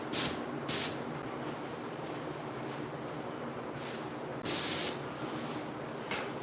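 Spray gun laying a paint coat on a car's body trim shelf: a steady hiss runs throughout, with several louder, sharper blasts as the trigger is pulled, close up and with no voices.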